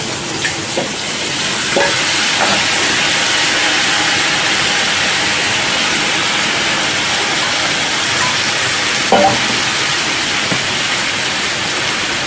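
Chow mein and potatoes frying in hot oil in a pan give off a loud, steady sizzle close up, with occasional scraping and clatter as the noodles are stirred.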